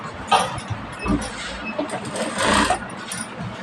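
Sewing machine stitching a collar neck, quick uneven bursts of motor whirring and needle clatter, close and fairly loud.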